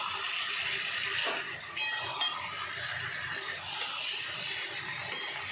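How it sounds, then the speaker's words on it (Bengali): Softened vegetables including pumpkin being stirred in a pot for sambar dal, a steady sizzle underneath with a few sharp scrapes and clinks of the spoon against the pot. "খুলে একটু সবজিগুলোকে নাড়াচাড়া করে নেব।"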